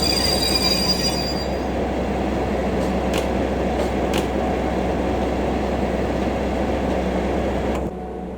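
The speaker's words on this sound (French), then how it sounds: "Allez, on freine tout doucement." A train on the Alps line between Grenoble and Veynes slows gently under braking: a steady rolling rumble with a few brief high wheel squeals midway, then the noise drops sharply near the end.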